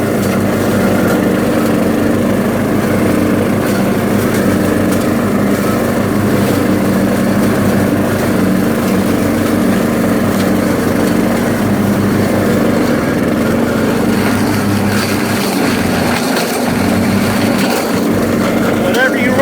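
A Cub Cadet XT1 Enduro riding mower cuts through a tall, overgrown field, its engine holding a steady, loud drone with the deck churning continuously throughout, roughness picking up toward the end.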